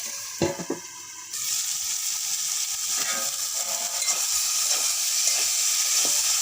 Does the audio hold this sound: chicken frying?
yes